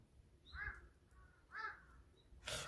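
A crow caws twice outdoors, a little distant and moderately loud, with a short, sharp sound at the very end.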